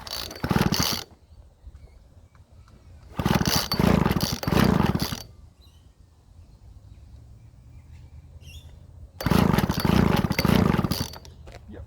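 A Jonsered GR36 small engine fires up in three loud, rough bursts of running separated by quieter gaps of mechanical clatter, close by with no talk.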